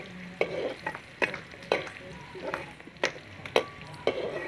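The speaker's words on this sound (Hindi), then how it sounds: "प्याज को फ्राई फ्राई कर रहे हैं" Onions fry in a pan over a home stove at dinner time, a soft sizzle broken by repeated spoon scrapes and knocks in an uneven rhythm, close by with no talk.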